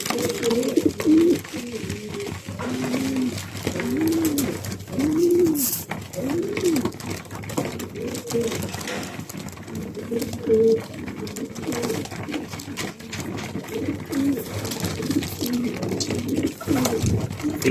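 Racing pigeons cooing inside a loft, steady overlapping low throaty coos from several birds close by, continuing throughout under a faint background hiss.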